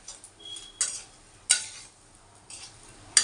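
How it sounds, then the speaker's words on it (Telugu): A spoon scrapes and stirs chili powder into a cooking pot for a fish-and-lentil curry, with a few sharp clinks of metal against the pot between quiet swirling strokes, close and clear. "కారం వేసాను ఫ్రెండ్స్, కలుపుకుందాం."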